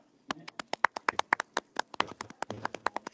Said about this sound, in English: please give a very, very big round of applause to Mr. Keenan Africa and our wonderful speakers from today.